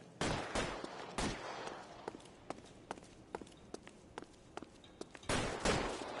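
Gunfire from the video game L.A. Noire: a few loud, broad bursts of shots at the start and end, with scattered sharp single reports in between, fairly close and with no talk over them.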